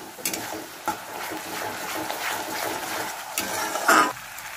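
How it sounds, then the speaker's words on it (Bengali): Chana dal poured into a hot pan of spiced oil, a broad wet sizzle and splashing hiss with a few clattering knocks, rising to a louder burst near the end. "এবার আমি ডালটা ছেড়ে দেবো।"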